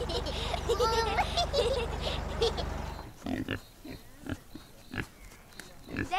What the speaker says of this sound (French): Il y a des cochons! Les cochons font ce bruit-là!